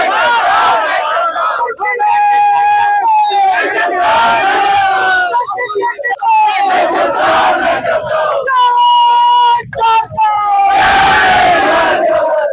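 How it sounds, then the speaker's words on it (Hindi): Large crowd of young students chanting and shouting slogans together at an evening candle march protest on a street in Jharkhand, loud and continuous, with rising and falling group cries throughout. "ये जो भीड़ मेरे पीछे है ये अपनी झारखंड की भीड़ है"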